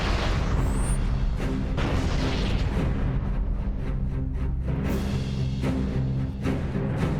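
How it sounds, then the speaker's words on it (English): A grenade explodes in a Halo battle, a dense low rumbling roar that holds for several seconds, followed by the loud, sustained boom of its aftermath. No one talks. "We'll just throw a grenade there."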